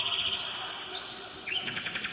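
Bird calls used as jungle effects in an exotica song: several bright, sliding chirps and whistles over a steady hissing wash, moderately loud.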